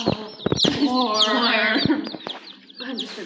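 A hen clucks and squawks up close in a short burst of rising, chattering calls that fade into softer clucks.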